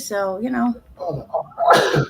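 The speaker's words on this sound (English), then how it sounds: "He must be having a sneeze attack." A person talks briefly, then a sharp sneeze bursts out at the end, close and loud.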